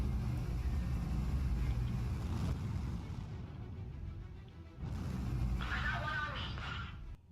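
Engine of an Aurora spaceship in Star Citizen, a deep, steady low rumble with a brief dip partway through before the roar swells back, loud and alone.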